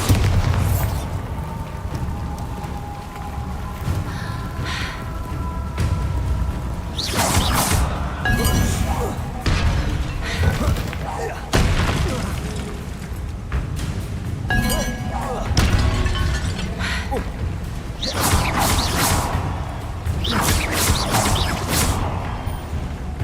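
Bombarda blasting spell explosions in the open-world game Hogwarts Legacy, repeated booming crashes and smashing impacts spread over about twenty seconds, loud and close, mixed with other spell effects and dense game noise.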